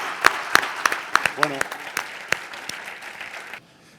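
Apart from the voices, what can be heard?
audience applause at a conference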